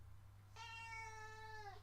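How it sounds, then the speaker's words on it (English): A pet cat lets out one long, clear meow after a moment of quiet, close and fairly loud against a low steady hum, with no talking. "That's my cat."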